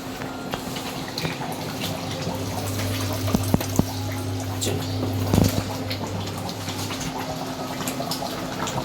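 Tap water runs steadily while garlic is washed in a home kitchen, a moderate continuous splashing with a few brief clinks and drips along the way.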